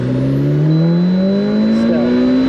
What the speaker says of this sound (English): I've got all the windows open, so you're gonna get a lot more wind noise.